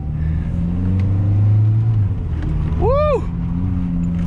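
Nissan D21 pickup truck's engine revving and accelerating from inside the cab, a steady low rumble that swells briefly, with a voice whooping over it.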